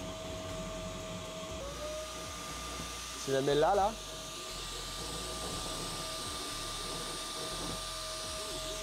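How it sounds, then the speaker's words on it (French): The cooling fans of an FLSun T1 3D printer whir in a loud, steady drone with a constant tone, joined briefly by a rising mechanical whine as the print head moves, while a person speaks over it. "Écoutez juste le bruit des ventilateurs, c'est infernal."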